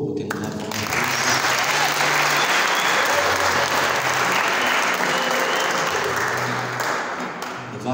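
An audience at an awards ceremony claps for a secretary, with full, even applause that swells quickly, holds for several seconds, then tapers off.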